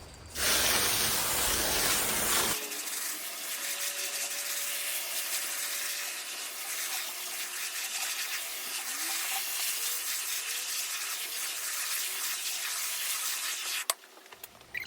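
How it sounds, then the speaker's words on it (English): A steady broadband hiss of water spraying onto pelleted stall bedding continues for most of the clip, preceded by a louder, rougher burst of rushing noise at the start. "I know about how much water it takes, so I spray it"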